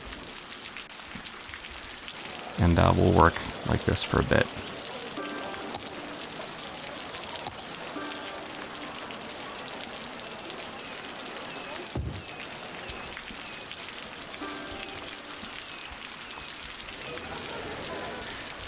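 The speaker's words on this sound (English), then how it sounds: "Hey, it's raining." Steady rain falling in the city-building game Cities: Skylines, a continuous even patter throughout, with a brief burst of louder clattering early on and someone speaking briefly over it.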